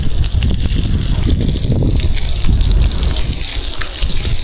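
A sprinkler waters jackfruit trees, with a loud, continuous gush and spray of water up close, and no talk.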